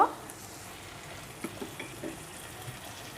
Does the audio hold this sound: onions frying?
yes